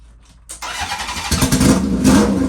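A Honda CB750 motorcycle with a newly installed Dyna S ignition kicks over and catches, the engine coughing to life close by and settling into a loud, rough, steady running note.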